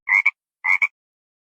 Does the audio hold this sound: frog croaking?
yes